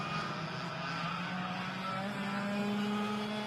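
Racing karts from a senior kart race at Sonoma circle the track as a continuous, steady engine drone with a rising pitch, loud and unbroken throughout.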